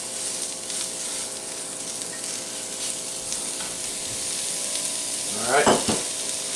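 Cabbage, carrot and onions for egg rolls sizzle steadily in a pan, with a louder burst of stirring and scraping near the end; a voice speaks briefly.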